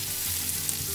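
Onion, leek and garlic sauté over medium heat in a pan, giving a steady close sizzle with a soft hiss and no pauses.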